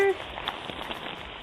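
Rain falls on a puddle outdoors, heard as a brief, fairly faint hiss with scattered soft patters, following a short voice at the start.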